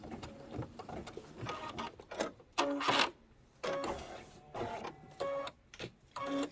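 An embroidery machine stitches out a design, whirring in irregular mechanical bursts of rapid needle strokes separated by short pauses, close and fairly quiet with no speech.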